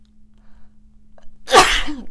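A single sharp sneeze bursts out close to the microphone after a short quiet intake of breath.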